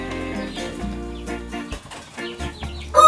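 Fighting chickens kept in a coop, clucking and calling over a steady low hum, with a sharper burst of fowl noise at the very end and no talk.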